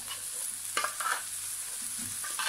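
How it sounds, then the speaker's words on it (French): A fork scrapes and breaks up plain canned tuna in a pan over low heat, soft irregular scrapes and taps over a faint steady sizzle, close and quiet. "on va venir juste l'émietter comme ça avec la fourchette"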